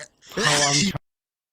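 One short, loud sneeze from a person during a casual podcast conversation, a sharp burst ending abruptly into silence.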